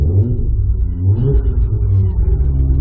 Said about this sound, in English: I can blip the throttle here